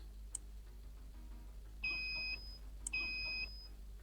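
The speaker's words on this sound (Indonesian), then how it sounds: "Token listriknya bunyi, Mas. Tolong diisi, Mas, token listriknya." Prepaid electricity token meter in a rented home emits two short beep bursts about a second apart, each a steady high tone with faint clicks before, fairly clear over a quiet room hum.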